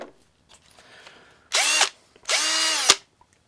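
A Parkside PABS 20-Li C3 cordless drill whirs close up in two short bursts, the second longer, each spinning up and stopping with faint handling clicks between.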